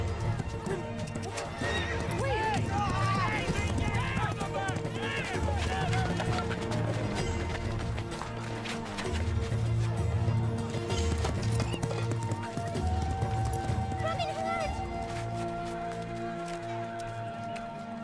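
Horses neighing and whinnying over rapid galloping hoofbeats, with shouting voices and commotion in a busy, loud market scene.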